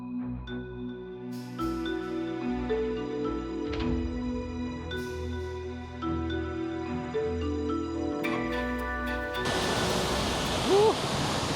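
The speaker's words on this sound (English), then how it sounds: "waterfall is really powerful. It's not very high, but you can feel the powerful roar" A powerful waterfall in the Dolomites roars as broad, steady rushing noise. It starts faint beneath tonal hum, then grows loud and close near the end.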